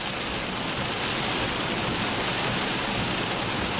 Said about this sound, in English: Perhaps a little bit of hail still left over in this thing.